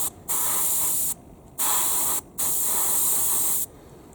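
Airbrush spraying Vallejo Metal Color gold acrylic paint, three close bursts of steady hissing air separated by short pauses, with no voice.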